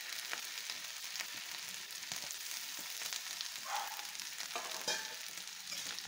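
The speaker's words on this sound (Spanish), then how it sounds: "Ahora que ya está un poco cocinada nuestra carne, vamos a agregar lo que son nuestros nopales" Nopales added to chorizo cooking in a pan hiss with a steady, close sizzle of frying, broken by light scraping strokes as the mixture is stirred.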